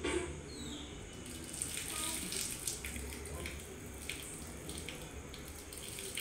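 Tap water runs steadily at a temple washing spot where feet are rinsed before worship, a continuous splashing hiss with a brief faint voice near the start.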